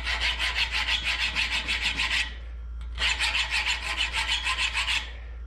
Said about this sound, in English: grab my file. This is just a Harbor Freight file